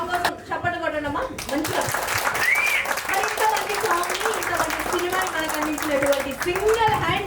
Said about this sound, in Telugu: ఒక్కసారి గట్టిగా సాంగ్ కోసం చప్పట్లు కొట్టండమ్మా మంచిగా